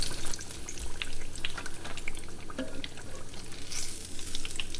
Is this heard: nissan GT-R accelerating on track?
no